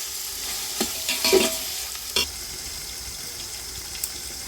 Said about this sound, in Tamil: தக்காளி சேர்த்து நல்லா வதக்கிட்டுக்கலாம்